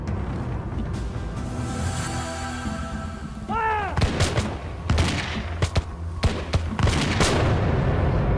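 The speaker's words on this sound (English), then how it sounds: "Prince Estabrook is hit in the first volley" British troops fire a musket volley at Lexington, a burst of loud overlapping cracks and booms that echo across open ground, with several further shots following.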